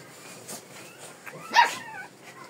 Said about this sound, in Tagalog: maingay na yung mga aso